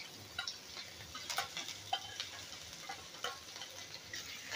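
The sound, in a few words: ginger, garlic and chilli sautéing in a pan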